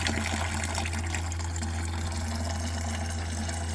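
Coolant pours from a 1999 Jeep Cherokee engine under rebuild in a steady, continuous gushing stream, close and constant, with no talking.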